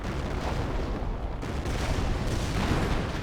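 A mortar half-track barrage in Company of Heroes, dense rumbling booms and battle noise rolling continuously at moderate level, with no talk over it.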